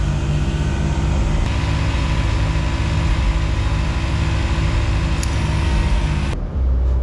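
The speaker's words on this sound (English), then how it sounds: "Being a compressor install video, I suppose we probably should air one tyre down to 15 PSI and see how long it takes to pump up." An ARB dual air compressor, fitted to a Next Gen Ford Ranger Raptor, pumps up a tyre with a steady, loud, close mechanical drone and rapid pulsing, then abruptly cuts off near the end.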